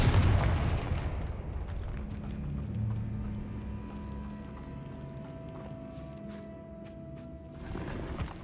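A Confringo fire-blast spell in Hogwarts Legacy on PS5 bursts with a deep, loud boom at the start, then fades into a low rumble and steady hum.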